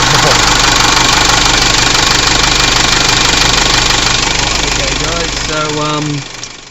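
Car engine running at a steady idle after a heavy-duty negative battery terminal upgrade, a loud, even rumble throughout that cuts off near the end, followed by brief speech.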